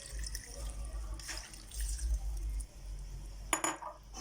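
Milk pours steadily into a dish for an Om Ali bread pudding, a continuous liquid splash over a low hum, with a small clink near the end.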